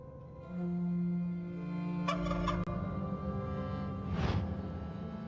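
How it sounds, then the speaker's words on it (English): A bird cries out in the Gollum video game: repeated gobbling, turkey-like calls over a steady low hum, with a brief whoosh in the middle and a louder call near the end, no talk. "Nice bird, don't fly."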